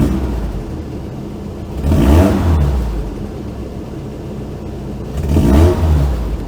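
A Toyota PreRunner truck engine runs loudly with a steady rumbling idle, swelling twice in brief revs and easing back down between them, with no talking.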